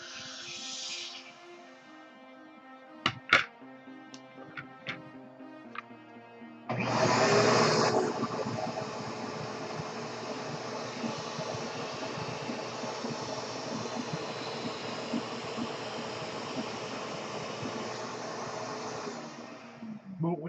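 Vacuum cleaner motor switches on with a loud burst and keeps up a steady, even whirring roar close by for the rest of the stretch, after a few faint knocks and a short hum at the start.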